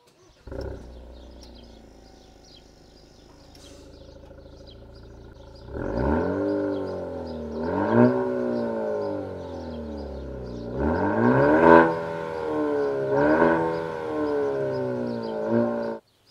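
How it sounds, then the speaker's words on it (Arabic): A 2023 Maserati Grecale four-cylinder hybrid starts and then settles into a quiet idle before its exhaust barks through several rising and falling revs, loud and close, with no talking. "صوت الاكزوز بصراحه صوت الاكزوز جميل لما تحط في بالك ان السياره اربع سلندر هايبرد"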